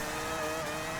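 A quad-rotor Mazda RX3 slides through a corner in the racing game Forza 6, its engine holding a steady high drone with continuous tire noise, loud and unbroken for a brief moment.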